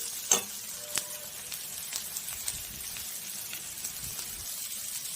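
Fish pieces, sliced onions and tender tamarind leaves with ginger-garlic paste frying in a pan, giving a steady soft sizzle with a few light stirring scrapes and clicks, no talking.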